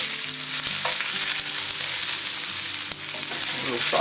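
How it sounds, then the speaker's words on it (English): Onions and peppers sizzle and sauté steadily in a hot pan for venison fajitas, a close, continuous frying hiss broken by a few soft stirring taps, with no talking. "We'll saute these."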